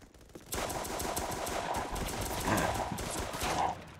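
A shotgun fires repeatedly in the Roblox game during gun testing, a fast run of sharp, evenly spaced blasts that continues for several seconds with little pause between shots.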